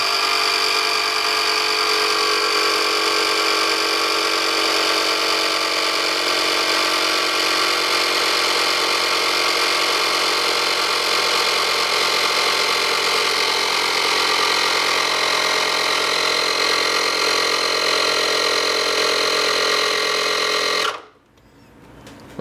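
Michelin portable tyre inflator pump running nonstop with a loud, close, buzzing mechanical drone inflating a flat tyre, holding steady for about twenty seconds before cutting off abruptly near the end.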